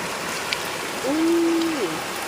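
A stream flows nearby at a shrimp-trapping spot, making a steady, hissing wash of water throughout, with a brief tonal hum rising and falling in the middle.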